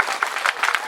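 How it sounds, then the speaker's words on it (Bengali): Audience at a school annual function clapping briefly, a short burst of applause with scattered hand claps and faint crowd noise over under a second. "সকলের জন্য একটু জোরে হাততালি।"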